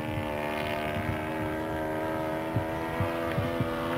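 Radio-controlled low-wing Piper Cherokee model plane on a low pass, a steady buzzing engine drone with a strong tonal whine holding throughout, moderately loud outdoors with occasional light knocks and no speech.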